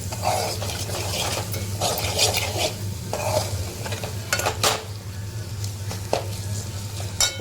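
Coconut masala roasting in a pan over high heat, with repeated brisk stirring scrapes of a spatula against the metal over a constant sizzle, close and fairly loud, no talking.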